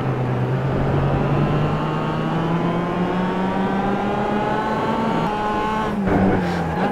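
Race car engine revving hard on board at the Brands Hatch Indy circuit, a loud close whine rising steadily in pitch through the gears, with a brief dip and change near the end.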